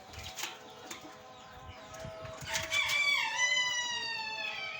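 Chickens cluck and a rooster crows in a caged poultry setup, with a long crow rising near the end over steady clucking and scattered bird calls, fairly close.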